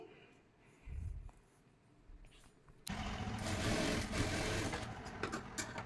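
A sewing machine runs a plain straight stitch along blouse fabric, kicking in suddenly after a quiet stretch and then whirring steadily and loudly to the end.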